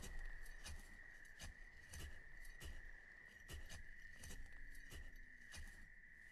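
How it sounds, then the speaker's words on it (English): Crickets chirp steadily in the Banished village-building game, a soft, even insect drone running throughout, with faint periodic taps and knocks scattered beneath it. "I still love that sound of just the crickets."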